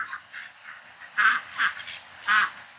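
Several honks from fake geese outdoors, a short series of loud nasal calls in an uneven rhythm, fairly close, with no speech over them.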